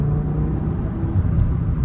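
A BMW E60 M5 engine gives a short rev blip over a steady, loud low rumble from inside the car on the road, with a continuous engine drone throughout and no talk.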